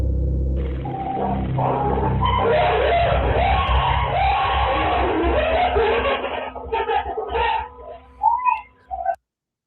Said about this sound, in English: This video was taken just moments before they all started to scream.